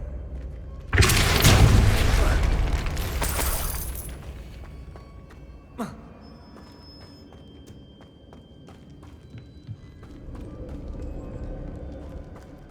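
Depulso spell blast in the video game Hogwarts Legacy, one loud crashing burst with a shattering tail that fades over a few seconds, followed by a faint thud and low ambient game sound.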